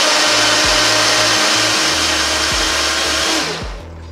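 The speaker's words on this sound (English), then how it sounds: "So now all we're going to do is blend this up until it's reasonably smooth." A countertop blender purees ginger, honey and water into a smooth syrup, a loud steady whirring roar held for several seconds with small motor pitch shifts before it spins down at the end.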